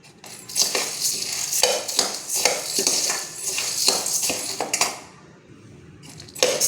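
A metal spatula scrapes and clinks in a dry pan while chana dal, toor dal and urad dal are roasted together. Rhythmic strokes repeat steadily for several seconds, then pause briefly before one more stroke.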